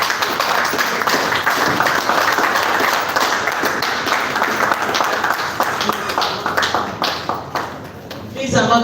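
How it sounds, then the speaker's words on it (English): Audience applause at a Nigerian resource justice strategy launch and dialogue, dense steady clapping from a crowd that continues for several seconds before tapering off near the end. "Please, another round of applause for him."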